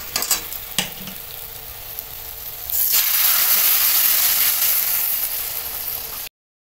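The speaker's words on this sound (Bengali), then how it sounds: "মশলা কষানো হয়ে গেছে, এবার দিয়ে দেবো গরম জল" Hot water is poured onto a spice paste frying in a pan for a fish curry, setting off a sudden, loud, broad sizzling hiss that swells and holds, then cuts off. Before it, softer frying with a few clanks.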